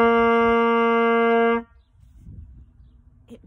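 Lips buzz into a paper mouthpiece, a loud, steady, reedy buzz for about a second and a half, like a horn blast, then cutting off into quiet room noise.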